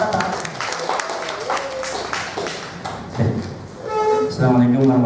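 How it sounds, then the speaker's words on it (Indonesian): Applause from a room of teachers at a school training session, a fairly loud, steady patter of clapping with some thumps. Voices mix in, growing louder near the end. "Tepuk tangan dulu untuk Pak Tata"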